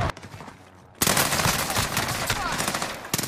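Sustained automatic gunfire in Call of Duty: Warzone, a loud, dense burst erupting after a quieter moment and rattling on without pause for a couple of seconds.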